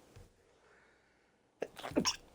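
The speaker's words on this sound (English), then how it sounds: "Hold on, I'm about to sneeze." A single sharp, loud sneeze bursts out near the end after a stretch of quiet breathing and faint room noise.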